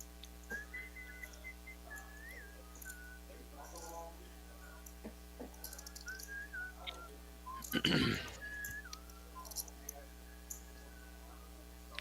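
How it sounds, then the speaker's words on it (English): A person whistles a few faint, wavering notes in the background of a card room during a poker game, over steady mains hum, with scattered chip clicks and one loud rustle midway. "Somebody's whistling."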